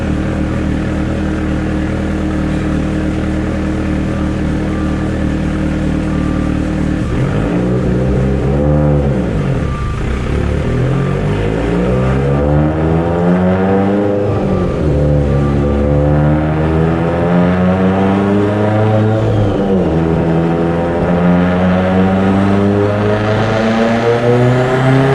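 A Mitsubishi Evo X with Manley H-beam rods and Wiseco pistons revs on a dyno, the engine droning loud and close as its pitch sweeps up and down repeatedly through a long run.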